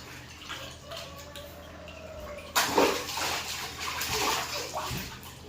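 A child splashes and sloshes water in a pool, a quiet stretch giving way to a sudden burst of nearby splashing and churning that keeps going.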